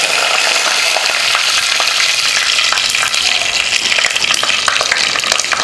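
Fenugreek seeds and curry leaves frying in hot oil for garlic curry give a dense, loud, continuous crackling sizzle throughout, with no voices.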